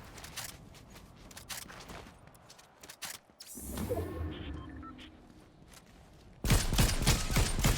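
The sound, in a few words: enemy gunfire in Fortnite video game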